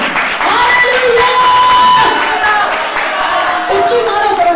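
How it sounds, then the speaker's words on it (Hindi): Congregation applauding loudly during a Hindi-language church service, sustained clapping mixed with crowd voices and cheering, with a tonal, musical layer underneath. "यीशु मसीह नासरी के नाम में आए उसके रूह को जोरदार ताली से वेलकम करें।"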